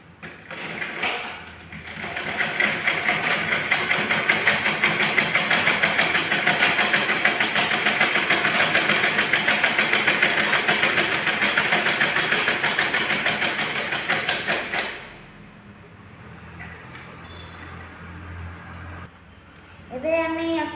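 A sewing machine runs a continuous stitch along a folded edge of a simple 30-inch blouse, droning steadily for about twelve seconds before stopping abruptly, with faint handling and a voice afterward.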